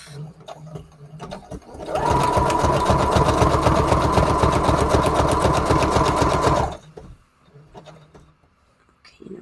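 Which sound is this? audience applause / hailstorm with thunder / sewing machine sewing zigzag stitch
sewing machine sewing zigzag stitch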